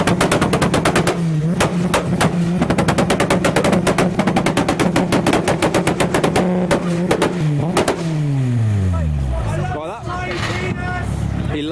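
A car engine revs hard with rapid, sharp exhaust pops and bangs crackling in quick bursts, then the revs drop away in a falling whine.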